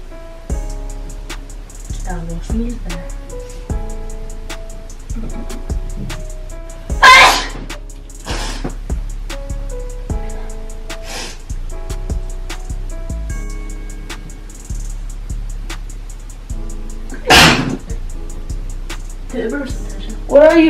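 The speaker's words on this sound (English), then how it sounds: "I will sneeze there." A person sneezes loudly a couple of times, sharp bursts standing out over a steady background of music and movement, close to the microphone.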